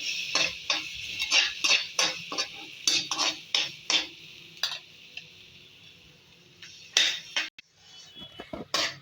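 Ground sour sorrel greens are worked around a pan with a metal spoon, giving a busy run of close scraping and clinking strokes in a quick uneven rhythm, pausing briefly before a last few knocks, with no voices.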